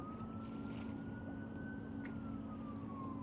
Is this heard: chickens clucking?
no